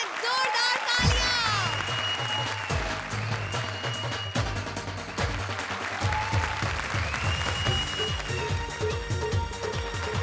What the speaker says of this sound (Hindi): लेडीज एंड जेंटलमैन, जोरदार तालियां।